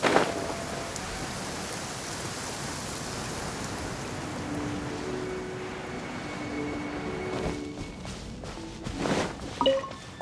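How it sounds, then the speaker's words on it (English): Steady rain hisses evenly throughout in the video game Genshin Impact, a broad wash of falling water with a couple of brief louder bursts toward the end. "When did it start to rain?"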